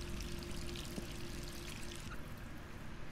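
Water pours steadily onto a face in Resident Evil 3, a continuous close splashing rush that fills the whole moment without pause.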